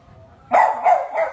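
A dog barks three times in quick succession, close and loud, after a brief quiet moment.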